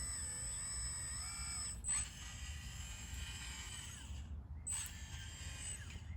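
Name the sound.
Kabolite 336 hydraulic system operating slowly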